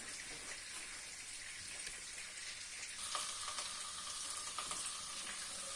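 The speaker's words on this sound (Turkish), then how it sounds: "Yağımız erimeye başladı arkadaşlar." Butter melting in a pot on a stovetop, giving a soft, steady sizzle and gentle frying crackle that carries on evenly without talk.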